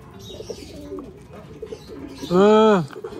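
In a pigeon loft, faint bird sounds and a voice give way to one clear, close pigeon coo near the end, a short rising-and-falling call.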